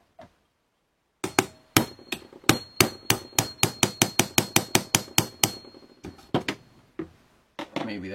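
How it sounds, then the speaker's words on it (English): A 1/8 inch roll pin is driven out with a hammer: about twenty sharp, close metallic blows come in a quick steady run, then a few slower, more spaced strikes follow after a short pause. "we got to pound that roll pin out"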